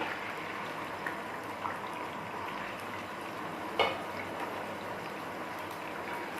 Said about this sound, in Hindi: प्याज को हम फ्राई करते हैं।